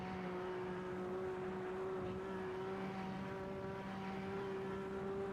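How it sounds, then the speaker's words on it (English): A 1950s Formula 1 car engine in a racing video game drones at steady high revs along a straight, a constant, moderately quiet harmonic tone with no talking. "here you will feel the raw speed of these cars, and also hear the beautiful engine"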